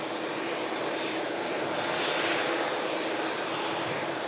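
A TUI Boeing Dreamliner jet rolls slowly along an airport taxiway, its engines giving a steady, broad rushing roar at moderate distance with no break.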